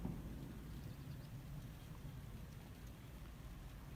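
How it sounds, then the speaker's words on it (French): Heavy rain and hail pour steadily in a thunderstorm in Bourg-Argental, a dense, even wash of noise heard at a distance with no voices. "À Bourg-Argental, c'est la grêle et le déluge."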